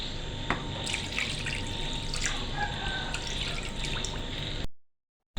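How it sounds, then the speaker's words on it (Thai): Rice-washing water poured over pla buek catfish pieces to soak them, a steady close splashing stream running for several seconds before cutting off abruptly. "หลังจากนั้นก็แช่น้ำซาวข้าวครับ น้ำล้างข้าวนะครับ"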